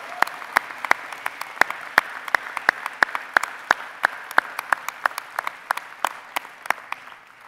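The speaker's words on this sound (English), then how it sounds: "So please give me a round of applause and thank Dr. Boyd." Audience applause at a spring university undergraduate commencement ceremony: a steady field of sharp, dense handclaps at moderate distance, continuing evenly for several seconds with no voices over it.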